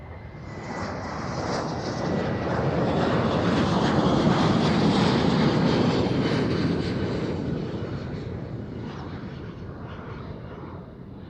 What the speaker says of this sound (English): EasyJet first. All right. He cut him off. Where's he going? Let's have a look. To London, A319.